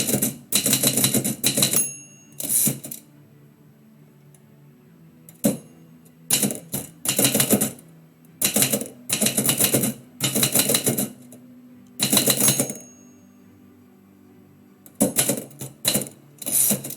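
A typewriter clacks out poetry during a livestream in loud, rapid bursts of keystrokes, each run lasting about a second, separated by quiet pauses, with an occasional single bell-like strike.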